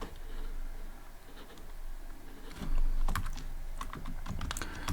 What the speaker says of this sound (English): I'll type here bar value